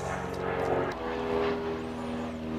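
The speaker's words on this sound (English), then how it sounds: "Piss off, aeroplane." An aeroplane droning overhead outside a workshop during motorcycle clutch work, a steady low engine hum that shifts in pitch partway through, moderately loud and continuous.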